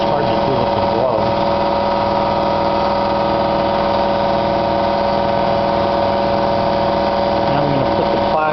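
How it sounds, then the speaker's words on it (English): An air compressor runs steadily throughout with a constant mechanical hum and drone, close by and moderately loud, in a workshop during an engine rebuild. "Sorry about my air compressor just went on."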